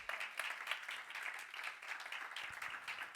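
Congregation clapping in a church service, a steady patter of many hands at moderate distance continuing throughout without talk.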